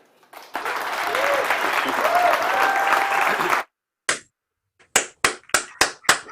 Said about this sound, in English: I've hit my applause button